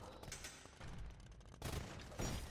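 Bombard cannons firing in a real-time strategy battle, several heavy booms and thuds layered over busy combat clatter, fairly loud and mid-distance.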